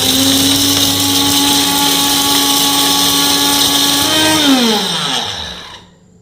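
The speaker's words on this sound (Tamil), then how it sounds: "இதை மிக்சியில் அரைச்சிக்கிடுவோம்." A mixer grinder grinds broken pieces of dried ginger into powder: a loud, steady high whine that holds for about four seconds, then slows and winds down to silence as the motor is switched off.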